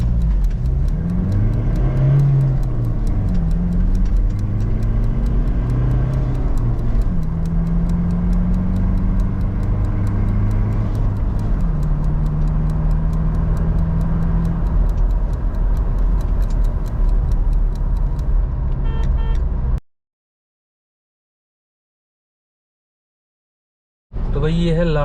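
A 2017 Toyota Fortuner 2.8L turbodiesel with manual gearbox, in 4x4, accelerates hard, its loud engine drone rising in pitch through several gear changes for about twenty seconds before cutting to silence, then a brief noise at the end.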